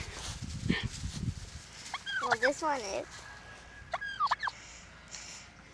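A turkey gobbles in loud warbling bursts, twice in quick succession, with a brief remark from a person early on.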